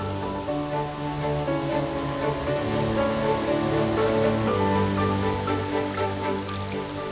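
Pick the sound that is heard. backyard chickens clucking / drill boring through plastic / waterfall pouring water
waterfall pouring water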